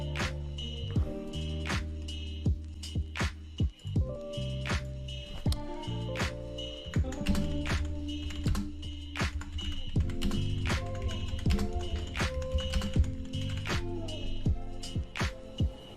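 Typing on a computer keyboard: a close, fairly quiet stream of sharp key taps in irregular bursts for about sixteen seconds, with a low musical background underneath.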